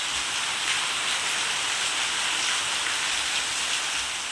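Steady rain pours during a monsoon downpour in Gujarat, a dense, even hiss of drops hitting surfaces that stays uniform and moderately loud throughout, with no voices.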